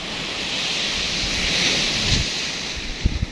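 Surf washes onto the white sand of Krakal beach, a steady loud roar of waves with wind buffeting the microphone and a few low thumps near the end.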